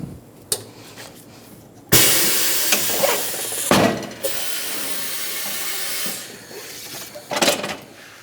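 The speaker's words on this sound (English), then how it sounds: "Now using a tire machine, I'm just going to break the bead." A tire machine breaks the bead on a truck tire from a 2007-2013 Chevrolet Silverado 1500 in a shop, giving loud bursts of pneumatic hissing and mechanical clunks. A long sustained blast runs between quieter pauses, with a sharp final burst.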